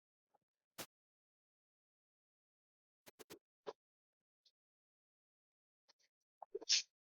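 A single faint sneeze from somewhere across a quiet classroom during a lecture, after a few soft knocks and clicks.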